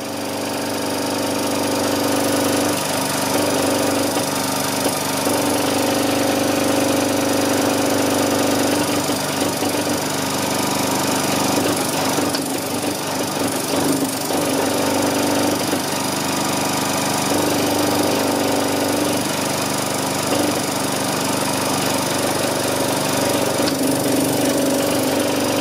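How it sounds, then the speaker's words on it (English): Small engine turning a Kromrey generator runs steadily and loud throughout, its pitch sagging and laboring in short stretches each time the output is shorted by hand, then recovering. "So you can hear when it bogs the motor down, I'm not shorting it in the optimum place."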